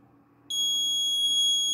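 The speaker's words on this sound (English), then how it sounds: "Alarm." A loud, steady high-pitched electronic alarm tone from a QR-code parking gate system starts abruptly after a brief quiet moment and holds continuously.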